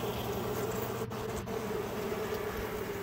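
Honey bees drone steadily in a hive of dark comb built inside a roof, a continuous low buzzing hum heard close and without pause.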